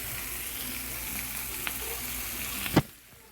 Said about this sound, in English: We're going to let that cook a little bit too before we actually put in those tomatoes.